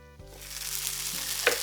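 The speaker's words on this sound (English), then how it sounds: "Place the sausage in the pan." Sausage sizzles steadily in a hot pan, a constant crackling hiss with a faint scrape of a utensil, no voices.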